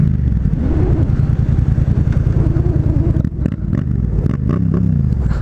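A Yamaha FZ-07 motorcycle is ridden with its engine droning loudly and steadily up close, a low rumble under rushing wind that dips briefly before carrying on.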